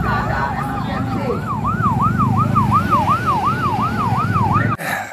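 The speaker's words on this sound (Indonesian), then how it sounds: "Ambulan kita kasih jalan kawan-kawan, membawa pasien dengan keadaan emergensi." An ambulance siren wails through a street student protest, its rising and falling sweeps repeating steadily and loudly for several seconds over crowd rumble and traffic noise, then cutting off abruptly near the end.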